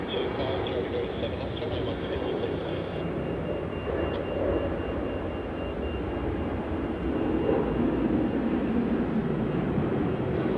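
An airliner departs Melbourne Airport for Nadi in heavy wet weather, a steady distant jet rumble holding broad and muffled throughout, with a person talking over it.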